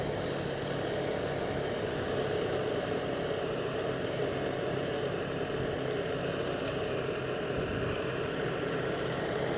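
A tractor engine runs steadily with a mulcher attached, working a tall sunn hemp crop into the soil in a field. The drone stays loud, even and unbroken from start to end, with no talk.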